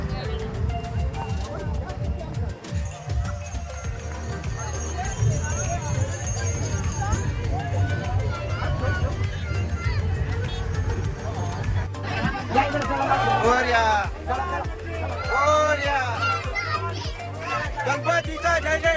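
Crowd at a Ganpati immersion procession: dense, continuous outdoor babble of many voices with children's shouts, a steady low drum-like pulse underneath, and louder bursts of voices later on.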